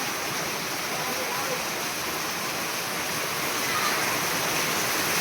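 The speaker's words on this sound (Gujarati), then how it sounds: "અમારા ગામમાં તો બહુ વરસાદ છે" Heavy rain roars steadily and close, a dense unbroken hiss that holds at the same loudness throughout.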